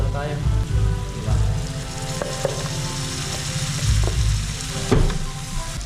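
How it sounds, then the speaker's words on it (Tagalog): Garlic, onion and mushroom sautéing in a pan, a continuous loud sizzle and crackle with occasional stirring clatters, close up, with music faintly in the background. "Naugasan po natin itong mushroom at ating gisa na."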